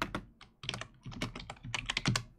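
Rapid typing on a computer keyboard, a dense run of close, clicky keystrokes with brief pauses, continuing throughout with no speech.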